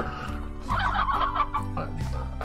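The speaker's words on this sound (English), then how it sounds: "A couple more chickens in there." Chickens clucking in the video game Slime Rancher, a run of cackling fowl calls over game music, fairly loud and continuous for a couple of seconds.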